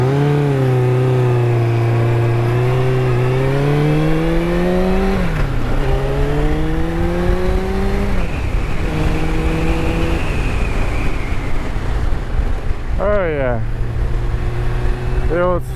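A Suzuki Katana motorcycle engine running, a loud continuous tone that rises and falls through several throttle blips, steady and close for the whole stretch.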